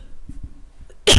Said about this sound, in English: I have to stop and give myself a drink of water so I stop coughing.